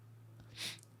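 A single short, sharp sneeze from a person suffering a cedar-pollen allergy, bursting out near and fairly loud over a steady low hum, with no talking.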